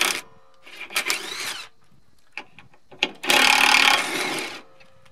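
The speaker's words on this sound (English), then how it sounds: "socket adapter for your impact tool" A cordless impact tool fitted with a socket adapter fires in short, loud, rattling bursts, with a longer burst near the end and quiet gaps and small clicks between them.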